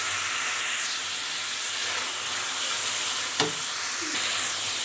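Garlic, ginger and green chili paste sautés in a pan, giving a steady, even sizzle and hiss with a brief knock of the utensil and a short louder flare of frying near the end, close and with no voices.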